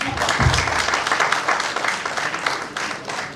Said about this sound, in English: उसका भी थोड़ा clap please.